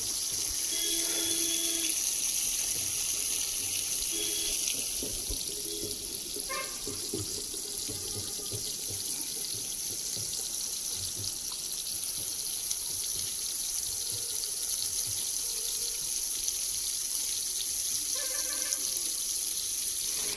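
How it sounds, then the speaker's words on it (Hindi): Water pours and trickles steadily into deep cracks in a dry hillside farm field, a continuous close gushing and splashing that runs throughout with light outdoor background noise. "इनमें इस प्रकार से देखो पानी भर रहा हूँ मैं"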